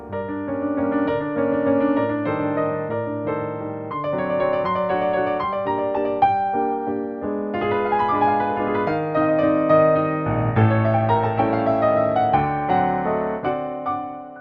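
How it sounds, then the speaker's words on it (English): A Yamaha Clavinova CLP 635 digital piano's Bösendorfer Imperial grand piano sound plays a stately, warm melody with full chords and sustained bass notes, steady and close, with no voices. "the legendary sound of the Bösendorfer Imperial, featuring a characteristic warm tone known as the Viennese sound"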